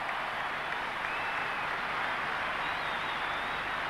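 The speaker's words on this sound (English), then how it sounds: "the crowd is standing to applaud Gary Sobers as he leaves the ground" Cricket crowd at the MCG rising to applaud Gary Sobers as he walks off after his innings, a steady, dense wash of clapping sustained throughout at even loudness.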